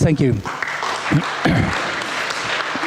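A conference audience breaks into brief applause for the event sponsors, with clapping running under a speaker's short spoken remark.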